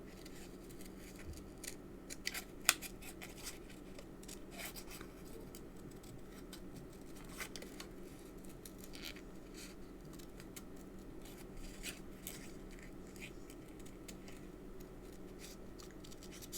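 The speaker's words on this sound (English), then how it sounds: "slowly close your scissors." Scissors slowly snip through paper card stock, giving soft, quiet repeated cuts and small crisp clicks close up, with no talking over them.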